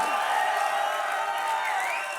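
Studio audience at a Hindi comedy show breaks into a short, steady burst of clapping and cheering, a dense wash of applause lasting a couple of seconds.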